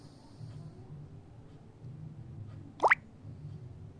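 Water goes into a pot of Bengali-style vegetable dal as one quick, sharp plop and splash, heard close against a quiet kitchen background.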